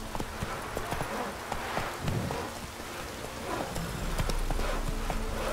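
Roach the horse's hooves clip-clop steadily in the fantasy role-playing game The Witcher 3, the beats under a constant wash of rain with some faint talk.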